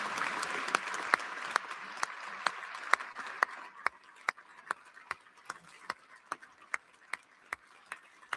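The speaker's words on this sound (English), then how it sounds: "I hope I get half that applause" An audience applauds Idaho's governors and first ladies with a broad wash of clapping that fades away, leaving a slow, steady run of single sharp claps ticking on alone.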